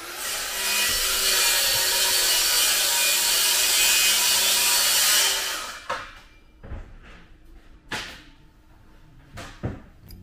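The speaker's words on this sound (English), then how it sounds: "going to use flap wheel, his favourite tool" A flap wheel on a power tool sands the rear end of a camper van in a loud, continuous rough grinding for about five seconds, then stops, followed by a few scattered knocks and clunks nearby.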